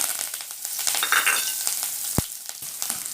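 Chana dal, cumin seeds and curry leaves fry in hot oil in a pan, a steady close sizzle and crackle with a single sharp pop partway through.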